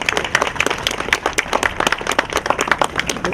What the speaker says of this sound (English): Another round of applause for Patricia.